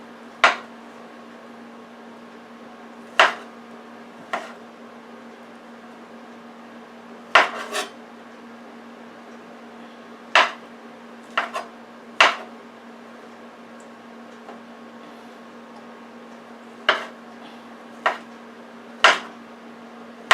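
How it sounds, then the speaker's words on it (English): Pieces cut off a roast pork, heard as sharp, isolated knife clinks and taps on a plate or board, about a dozen irregularly spaced strikes over a steady low hum; no talking. "I'm just cutting off pieces"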